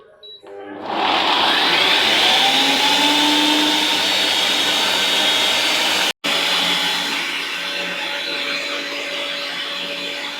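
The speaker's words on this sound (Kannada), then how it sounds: "ಇದನ್ನು ಗ್ರೈಂಡ್ ಮಾಡ್ಕೊಂಬನ ಬನ್ನಿ." A kitchen mixer grinder blends cooked green peas into a purée, starting up with a brief rattle and then holding a loud, steady motor whine with one sudden cut-out midway, close and alone.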